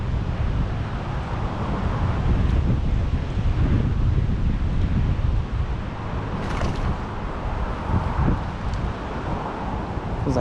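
Strong wind buffets the microphone beside a roadside creek during tenkara fly fishing, a loud, continuous low rumble with gusty swells and no voices.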